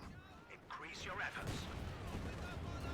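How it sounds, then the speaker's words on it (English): Artillery barrage in a Company of Heroes 2 4v4 match, distant rumbling blasts and crackling impacts rolling under a commentator's voice, fairly faint overall. "Gets one wave of the artillery."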